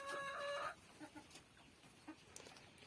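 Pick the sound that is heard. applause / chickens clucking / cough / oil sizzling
chickens clucking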